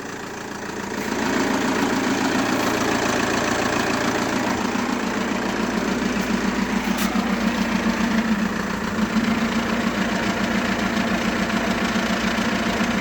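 Opel Vectra C with the 1.9 Z19DHT 150 hp diesel running steadily at idle with a faint rattling knock as the faulty clutch pedal is pressed, a close, continuous drone that steps up in level after the first second.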